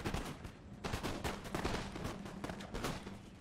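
Ottoman artillery batteries in Empire: Total War fire in a ragged series of booming shots, several sharp reports overlapping into a rolling fusillade at close range, with no voices.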